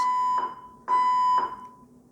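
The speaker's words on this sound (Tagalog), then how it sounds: "yung mga fire alarm systems chine-check nila sa buong building" A building fire alarm system under test sounds loud electronic tones in regular on-off pulses, each burst about half a second long, repeating steadily.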